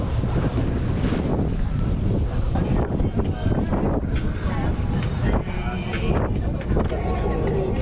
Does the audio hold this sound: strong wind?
yes